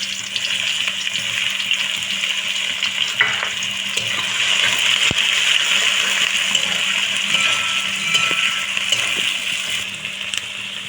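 Chopped onions frying in hot oil with bay leaves for a chicken curry: a steady, close, fairly loud sizzle that runs throughout, with occasional light stirring, no voices.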